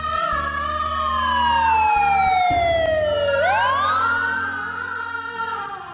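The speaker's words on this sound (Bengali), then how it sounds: "এরপর অ্যাম্বুলেন্স চলে গেল।" An ambulance siren wails close by, its tone sweeping down and then rising again in a long continuous cycle over a low engine rumble, loud throughout with no talking.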